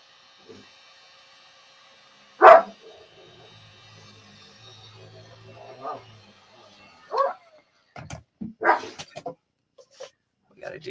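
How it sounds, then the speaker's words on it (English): Several pet dogs bark in short isolated bursts from across the room, with softer whimpers and yips between them amid otherwise quiet surroundings. "You hear my dogs over there? They're being bad."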